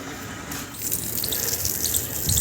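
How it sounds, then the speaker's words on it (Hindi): Water sprays steadily onto a house rooftop during the rainy season, a continuous hissing splash with no talk. "साहब पानी मार रहा है।"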